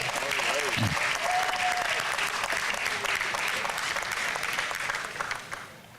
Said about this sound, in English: give him a big round of applause now